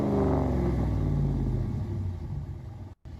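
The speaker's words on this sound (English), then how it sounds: "Ram trucks usually do sound pretty good." A Ram truck engine rumbles loud and steady, a deep low growl with a slight swell near the start, then cuts out for a moment before resuming.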